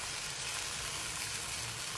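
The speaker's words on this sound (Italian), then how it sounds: "olio e ci buttate salsiccia in, ecco qua, e le fate friggere" Sausage fries in oil in a pan, giving a dense, steady sizzle that fills the whole moment without pause, close and loud with no voices over it.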